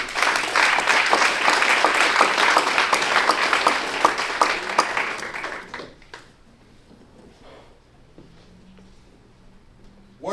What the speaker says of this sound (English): Let's go ahead and give a round of applause to Mr.